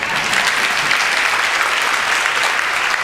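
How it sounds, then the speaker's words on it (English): An audience applauds at a panel discussion on suicidal ideation, steady dense clapping from many hands filling the room at an even level from start to finish with no break. "Y'all give him a round of applause."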